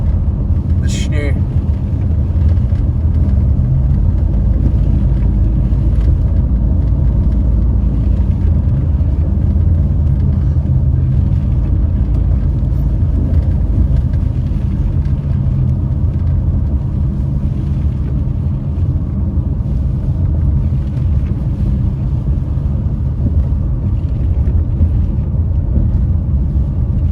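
A car drives through Big Bear during a snowstorm, its steady low road and engine rumble filling the cabin throughout while a person talks over it.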